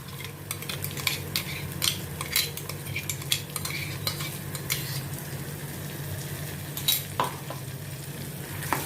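Tomato puree sautéed with browned onions and a pinch of asafoetida for dum aloo, a low steady sizzle under repeated clinks and scrapes of a spoon against the pan, close and moderate, no voices.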